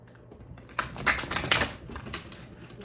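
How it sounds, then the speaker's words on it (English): Prisma Visions tarot cards being shuffled by hand, a burst of soft riffling, flicking card clatter that rises after a quiet start and then settles into lighter shuffling, close and fairly quiet. "I'm getting better at shuffling"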